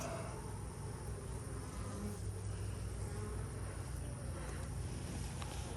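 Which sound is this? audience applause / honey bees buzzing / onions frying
honey bees buzzing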